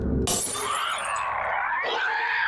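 A glass bottle thrown in a Last of Us TV scene bursts on impact, a sudden bright crash followed by a ringing, tinkling tail of scattering shards under a low background tone.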